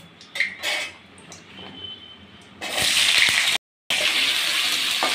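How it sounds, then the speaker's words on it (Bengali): Potatoes go into hot mustard oil for a soyabean and potato kosha, with quiet clinks of pans before a sudden loud, hissing sizzle that breaks off briefly, then carries on. "তো এখন আমি আলুটা ভাজবো"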